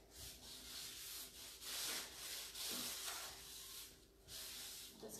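A rag rubs back and forth over a wooden surface before brushing on satin polyacrylic, in repeated soft, hissing strokes, close and quiet, with brief pauses between passes.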